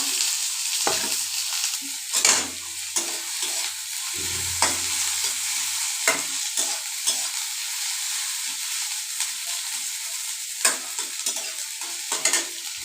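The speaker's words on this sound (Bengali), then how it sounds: "লাল লাল কইরা একটু ভাইজা লমু লগে পেঁয়াজটাও" Onions and chillies frying in oil in a kadai while a utensil stirs them, producing a continuous sizzle broken by repeated scraping knocks at irregular intervals, close by and with no voices.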